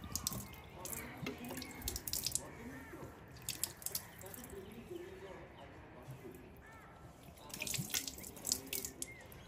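Lukewarm water splashes and drips as a face is washed slowly over a sink, with irregular wet patters and trickles at close range and a few faint bird calls in the background.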